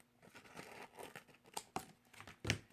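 Fusible glass paper is cut into a square, making soft crinkling and rustling with a few crisp snips, quiet and close with an irregular rhythm and a sharper crunch near the end.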